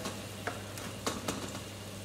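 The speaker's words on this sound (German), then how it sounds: "Und Olivenöl, rein damit." Olive oil poured into a pan for spaghetti aglio e olio gives a steady, quiet frying sizzle, with a few soft clinks and stirring taps over a low constant hum.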